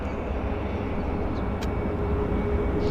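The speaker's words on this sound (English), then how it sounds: "there's our WestJet taxiing out" A WestJet airliner taxiing out at Vancouver YVR airport gives a steady, broad engine roar at a distance, continuous and unchanging across the moment.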